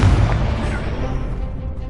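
A Confringo blasting spell bursts in Hogwarts Legacy, a deep booming explosion at the start that rumbles and fades over two seconds, with no talking.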